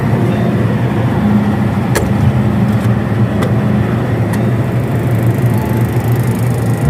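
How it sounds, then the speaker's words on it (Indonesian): Steady, loud running drone of a Maestro 50 kVA generator powered by a Mitsubishi Fuso 4D34 diesel engine, a continuous low rumble with a few faint clicks and no talk. "Untuk generator dari Maestro yang 50 kVA."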